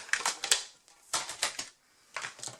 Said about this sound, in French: on va marquer nos plis, tout simplement.